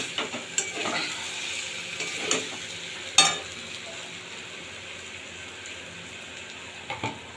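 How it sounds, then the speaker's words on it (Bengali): Cauliflower and prawn curry is sautéed and stirred in a pan: a low, steady sizzle broken by several sharp spoon scrapes and clinks against the metal. "খুব সুন্দরভাবে এবার এটাকে কষিয়ে নেবো একসাথে।"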